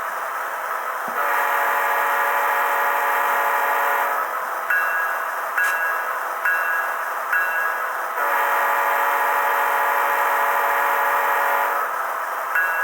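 An Intermountain ES44AC model locomotive's sound decoder sounds its horn: two long, steady multi-tone chord blasts with a few short toots between them, loud and clear with no talking.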